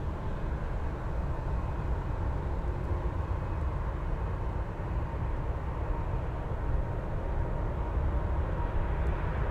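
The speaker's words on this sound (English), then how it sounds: "let's go over to the FedEx 777 on the move" A FedEx Boeing 777 jet on the move gives off a steady, broad roar of engine noise, fairly distant and unchanging, with no voices over it.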